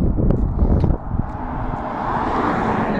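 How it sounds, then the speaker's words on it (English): Wind blowing outdoors on a warm day, a broad rushing roar buffeting the microphone, loud at first, then easing into a steadier, softer whoosh. "That wind picked up just a moment ago, and it was so wonderful"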